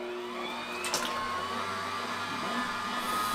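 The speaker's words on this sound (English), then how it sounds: "We're ready to get our mixture strained. We're gonna see how this goes. And we've got our strainer attachment on our grinder." A food grinder fitted with a strainer attachment pushes a fruit mixture through, giving a steady, even motor drone with a faint whine that holds throughout and no talk.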